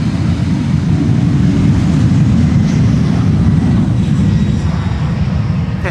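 Jet engines of a Boeing 747 cargo aircraft spool up for takeoff at an airport runway, a loud, steady low roar that holds the whole time with a broad rushing hiss above it.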